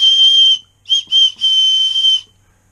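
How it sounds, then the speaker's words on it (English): An orange plastic whistle built into a Spyderco knife made of fiber reinforced nylon gives a shrill, piercing tone. It sounds in four toots: a long one, two short bursts, then a longer sustained blast, loud and close with no talk. "This has a whistle right here. Those orange things are a whistle. I'll toot it for you."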